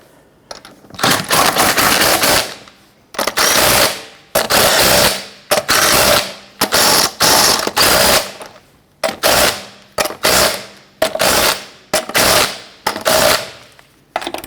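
Rapid bursts from an impact wrench snugging down the wheel lug nuts on a 1999-2004 Jeep Grand Cherokee, about a dozen loud, close rattling runs separated by short pauses, with no talking.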